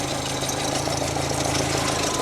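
Slow, uneven idle of an engine on a freshly rebuilt carburetor, a steady loud rumble with a low pulsing beat and faint knocking throughout, no voices.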